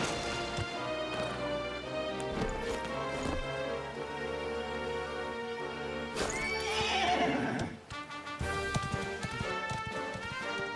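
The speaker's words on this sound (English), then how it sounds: "Horse!" A horse in the video game Dragon Quest XI whinnies loudly over a dense bed of music, with hoofbeats clip-clopping along steadily throughout.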